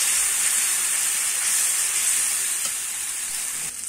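Spice paste with ground tomato sizzling as it is sautéed in a pan, a steady bright hiss that stays close and continuous, easing slightly toward the end, no talking.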